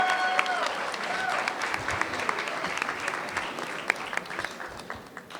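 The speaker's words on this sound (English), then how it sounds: "So let's give them a round of applause for" Audience applause at a school fall athletic awards assembly, a steady mass of clapping from a large crowd, fairly close and even throughout with a few voices mixed in.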